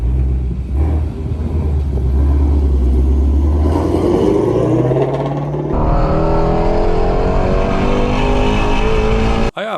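A car engine rumbles loudly and revs as the vehicle pulls away at the start of a road trip, rising and shifting through gears, close and continuous until an abrupt cutoff at the end.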